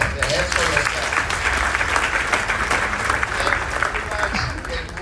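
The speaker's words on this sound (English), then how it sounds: "I think you must clap the hands for yourself." An audience at a mall launch event applauds in a dense, steady wash of clapping that lasts throughout, loud and sustained without breaks.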